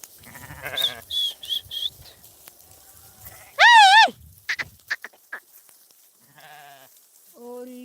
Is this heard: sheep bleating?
yes